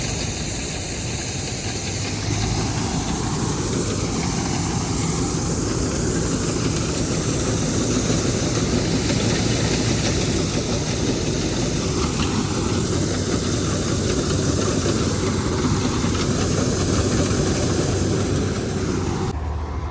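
A loud, continuous tractor engine roar during wheat harvesting, with a rough, churning texture, fills the whole stretch, steady and close, with faint rising and falling tones underneath.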